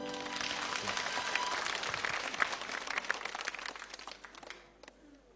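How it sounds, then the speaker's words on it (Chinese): Audience applause greets a contestant stepping up at an international Chinese-language competition for foreign students, a dense burst of many hands clapping that holds steady for about four seconds, then thins out and fades near the end. "来，掌声有请。"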